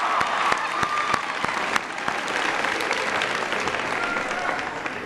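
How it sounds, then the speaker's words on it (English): An audience applauds after a student named Leah gives an introduction, sustained clapping from a seated crowd that stays fairly steady for about five seconds, with a few sharper claps standing out near the front. "Give Leah a big round of applause."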